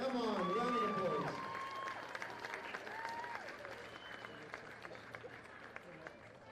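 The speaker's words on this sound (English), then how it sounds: "A round of applause, everybody, come on, a round of applause." Applause from a sports crowd honoring the chosen most valuable player at a Men's Premier League game, loud at first with a voice over it, then thinning to scattered, fainter clapping.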